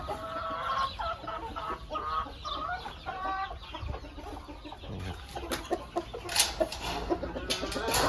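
A breeding rooster and chickens cluck and chatter repeatedly at close range, with bursts of louder squawking near the end against a busy farmyard background.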